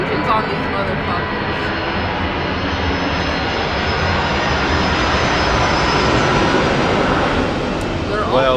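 A loud, steady roar of FedEx airplane engines in Tennessee fills the whole stretch, close and constant, swelling slightly near the end, with voices faintly beneath.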